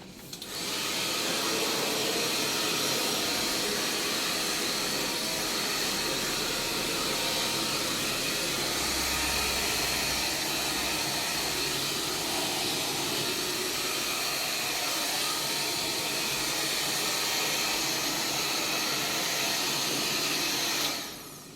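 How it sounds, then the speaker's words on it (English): Hair dryer blowing air to dry a fursuit, a loud continuous roaring hiss running steadily for about twenty seconds before switching off. "Hair dryer."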